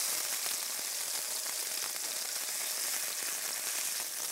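About 1.25 pounds of pork chops fry in a pan with a continuous, even sizzle and crackle close up, steady throughout with no voices.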